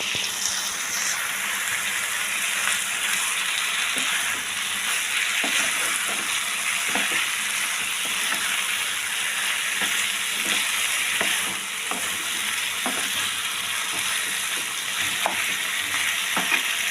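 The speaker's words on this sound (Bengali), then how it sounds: "মাংসটা দিয়ে একটু কষিয়ে নিই, তাহলে মশলাটা মাংসের মধ্যে ভালো ঢুকবে।" Chicken pieces for palak chicken frying in a spice masala, being stirred. A steady close sizzle runs throughout, with repeated scraping stirs at an irregular rhythm and no voices.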